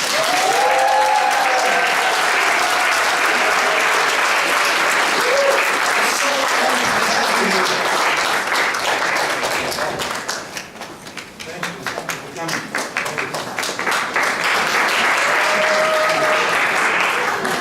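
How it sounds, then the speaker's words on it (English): A standing audience gives sustained applause to welcome a speaker at an evening event, a long dense roar of clapping that dips briefly and then swells again, with a few cheers and voices in the crowd. "please stand up from your seat and let's give him a warm round of applause"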